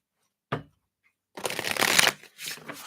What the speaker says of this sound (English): let's give these a shuffle, and we will get into it here